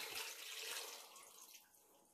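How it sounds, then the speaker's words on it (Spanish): Half a litre of water is poured into a cooking pot already holding the other ingredients, giving a steady, close splashing pour that trails off near the end, with no voices. "Ahora vamos a terminar de incorporar medio litro de agua."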